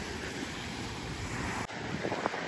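Ocean waves behind a beach cabin at a Belize resort, a steady broad wash of surf blended with heavy wind buffeting the microphone, continuous and loud with a brief dropout near the end.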